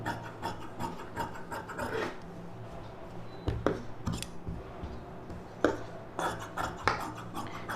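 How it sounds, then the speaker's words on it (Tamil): Scissors snipping through silk saree blouse fabric on a table, a series of close, crisp rasping cuts in uneven bursts with brief pauses between them. "கீழே இந்த அளவு அப்படியே கட் பண்ணி எடுத்துருங்க."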